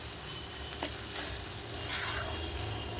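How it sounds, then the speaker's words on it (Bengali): Whole green chillies and spices are stirred in a hot pan with potatoes, sizzling and frying steadily while a utensil scrapes and turns them close by. "নাড়াচাড়া করবো আর একটু কষাবো 1 থেকে 2 সেকেন্ড।"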